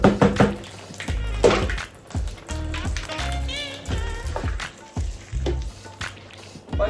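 Egusi seeds being washed by hand in a bowl of water for a second rinse, with repeated close splashing, sloshing and knocking as the seeds are scrubbed and stirred, water sounds coming in uneven bursts.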